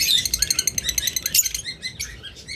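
A pair of caged pet parrots, Charcoal Parblue mutation budgerigars for sale, chirping in rapid high twittering bursts, close and lively with no voices.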